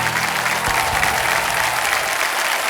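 A studio audience on a Hindi television quiz show gives a loud, steady round of applause, dense clapping that fills the whole moment without a break.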